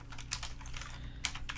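Someone types CSS code on a computer keyboard, producing a handful of soft, close keystroke clicks in an uneven rhythm, with no one speaking.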